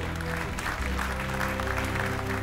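Applause at an awards ceremony for real estate brand Guy Hoquet l'immobilier: a steady, moderate wash of clapping heard over a sustained low musical hum, continuous throughout.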